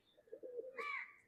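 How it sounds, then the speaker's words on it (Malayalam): A racing pigeon coos once in a loft, a soft low throaty murmur followed by a brighter rising call, close and quiet in a calm space. "ഈ പ്രാവ്."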